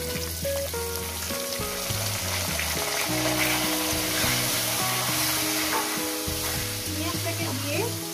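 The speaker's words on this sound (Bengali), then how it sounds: "পেঁয়াজটাকে দিয়ে আমি সুন্দর করে মিনিমাম 3-4 মিনিট ধরে এটাকে আমি ভেজে নেব" Onions fry in hot oil with cardamom, cinnamon, cumin and garam masala, a loud, continuous close sizzle with steady background music underneath.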